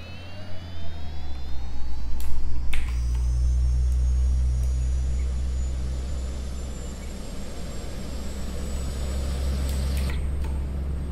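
Bell 407 helicopter turbine starting up in the X-Plane 11 simulator, a steady loud low engine drone with a rising whine layered above it, plus a few sharp clicks early on.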